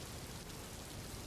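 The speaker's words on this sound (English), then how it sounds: "now you can hear the rain" Steady rain, a brief continuous wash of hiss and patter at an even, moderate level with no voices.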